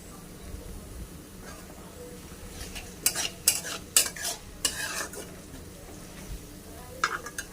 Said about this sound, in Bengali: এটাকে ভাজা ভাজা করে নেব